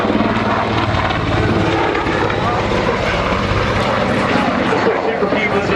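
A Swiss Eurocopter Cougar helicopter flies a display at the Waddington Airshow in strong wind, with a loud, continuous rotor and engine roar throughout and a commentator talking over it.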